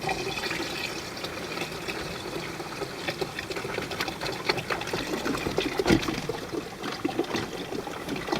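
Homemade windshield washer fluid pours from a gallon jug into the reservoir of a 2006-2010 Toyota FJ Cruiser, giving a continuous gurgling, splashing flow that surges briefly near the end.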